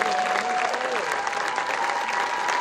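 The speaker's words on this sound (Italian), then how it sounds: "Meritano davvero ancora, ancora un applauso." Outdoor audience applauding a marching band at a band event on a seafront promenade in Giulianova, a thick, sustained round of clapping with a faint tonal whistle or voice threading through the crowd noise.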